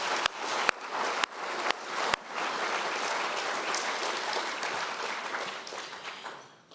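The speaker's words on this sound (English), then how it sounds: "let's give them a round of applause" A few sharp, isolated claps open, then an audience at a charity fundraiser event breaks into sustained, fairly close applause that tapers off near the end.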